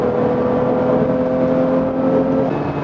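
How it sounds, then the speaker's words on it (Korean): A Honda Pilot SUV's engine hums steadily from inside the vehicle in sport mode, smooth and fairly loud, with a slight rising whine as it accelerates. "스포츠 모드로 가속을 하는데 아주 시원하게 달려주죠"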